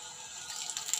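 Steady rushing water from a water pump filling a well flows continuously, a soft hiss and splash that grows slightly louder toward the end.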